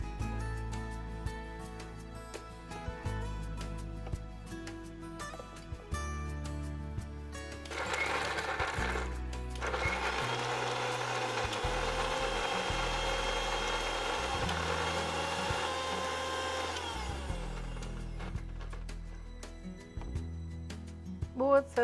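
A kitchen blender grinds red chillies with a little oil into a creamy chutney. The motor whirs in short stop-start pulses, then runs in one long loud grinding stretch before pulsing again, with brief voices in between.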